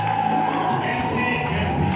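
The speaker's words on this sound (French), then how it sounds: "Est-ce qu'on peut donner une offrande d'acclamation au Seigneur?" A church congregation cheers and acclaims together in a sustained, dense wash of voices that fills the room evenly and never lets up.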